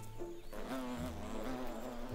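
A cicada-killer wasp buzzes close by in a steady, wavering drone that rises and dips slightly, heard alone with no talking.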